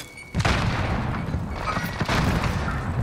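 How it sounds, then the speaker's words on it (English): A grenade thrown and exploding in Call of Duty: Modern Warfare, a loud booming blast rolling into sustained rumble and crackle, with a second burst near the end; no talk. "Throwing grenade."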